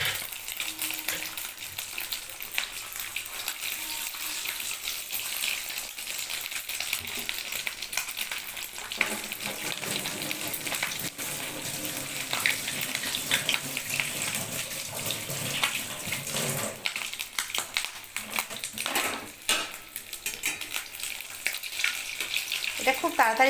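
Pieces of batter dropped one by one into hot oil, crackling and bubbling in a continuous loud sizzle that swells and thins over time, with no one speaking.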